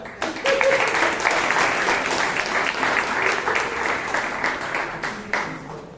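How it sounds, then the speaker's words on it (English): Applause from a Toastmasters club meeting audience in Bangalore, a dense, steady patter of many hands clapping for about six seconds, with some voices murmuring underneath. "give a huge round of applause to"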